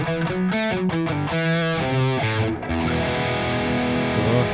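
An electric guitar played through a distortion effect, a Barstool Warrior pedal, sounds a continuous run of chords and notes, loud and sustained with no talking.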